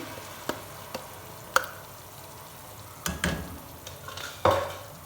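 Onions fry in a pan as puree from four blended tomatoes goes in for a kofta and egg curry, with a low sizzle under several sharp clinks and scrapes of a spoon against the pan.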